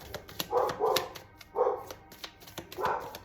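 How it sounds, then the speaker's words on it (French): Several dogs bark in short, repeated bursts at moderate distance in a quiet room, four or five separate barks with brief gaps, no talking over them. "vous devez entendre mes chiens"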